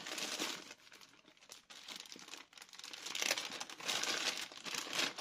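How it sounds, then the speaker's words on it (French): Plastic packaging around craft supplies crinkles and crackles continuously at close range as it is cut open with scissors, with busy bursts of rustling that swell louder toward the end. "désolé pour le bruit du plastique"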